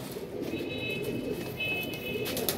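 Pigeons and young pigeon chicks kept as a gift: soft, low repeated cooing close by, continuous through the short stretch with faint background noise.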